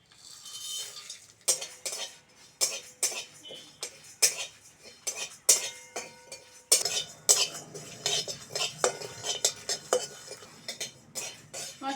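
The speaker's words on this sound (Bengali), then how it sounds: "গোটা জিরে, গোটা ধনে, মৌরি, শুকনো লঙ্কা, এলাচ আর দারুচিনি, এগুলো সব একসঙ্গে ভেজে নেবো।" Whole cumin, coriander seeds, fennel, dried red chillies, cardamom and cinnamon dry-roasting together in a pan, stirred with a metal utensil that scrapes and clinks in uneven bursts, close and clear, with no talking.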